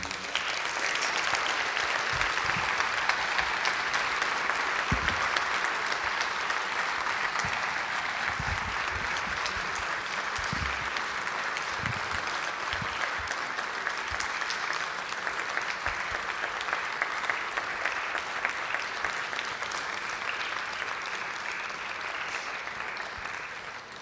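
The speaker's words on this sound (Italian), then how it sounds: "Questo è un applauso di sollievo per Novara, giusto?" Sustained applause from a large audience at a science talk in Novara, steady and dense for the whole stretch without a break, with no voices rising above it.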